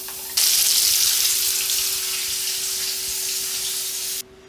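Aakoli fish pieces drop into hot oil, setting off a loud, steady hiss of frying up close that holds for several seconds and then cuts off abruptly.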